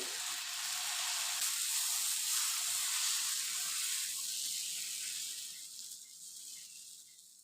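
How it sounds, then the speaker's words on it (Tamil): Prawn dosa roasting on a hot pan, a loud even sizzle close by that gradually fades and thins over several seconds. "இப்போ தோசை சுட்டுடலாம்."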